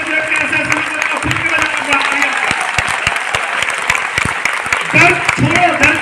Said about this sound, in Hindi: अपने में भरोसा करके ताली बजा सकते हो